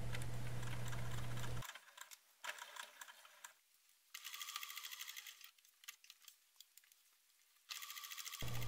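A sewing machine runs in loud continuous bursts as it stitches fabric pieces to a zipper 0.5 cm from the edge while making a wallet, starting and stopping several times with quiet mechanical ticks and handling in between.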